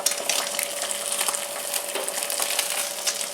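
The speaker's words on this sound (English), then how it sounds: "I'm going to allow this to continue to fry and cook until it's ready to remove" An egg fries on a Ninja XL Pro grill and griddle, a steady close crackling sizzle that holds evenly throughout with no talking.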